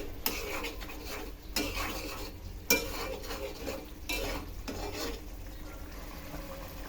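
Chili powder and spices for a fish head curry with potato and tomato are sautéed and stirred in a pan, with repeated scraping clinks of a spoon against metal over a low steady sizzle.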